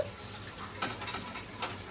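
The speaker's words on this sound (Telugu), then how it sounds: "సో రైస్ కోసం అయితే వాటర్ పడుతున్నాను" Tap water pours steadily into a vessel to cook biryani rice in a home kitchen, a continuous close splashing hiss with small surges, and no voices over it.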